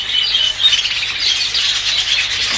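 A colony of birds in a backyard aviary squawks and chatters loudly and continuously, many calls overlapping close by, with no voices.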